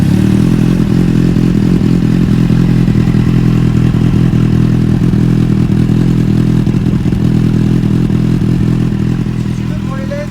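A Kawasaki Z800 motorcycle engine runs loud and steady close by, a constant deep throbbing with slight revving swells and mechanical clatter throughout.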